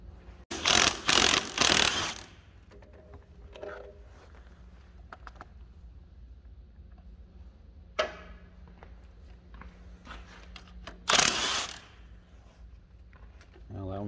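Socket wrench with a chrome socket working manifold bolts loose on a Caterpillar RD-4 engine, close by. Rapid ratcheting clicks come in short bursts near the start and again toward the end, with quieter mechanical handling between them.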